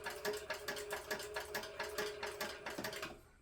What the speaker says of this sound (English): So I'm just stitching around the box here